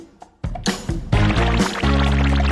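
Water poured into a cup for drinking during a home cooking challenge: a close, steady pouring gush that rises in pitch as the vessel fills, following a few clinks at the start.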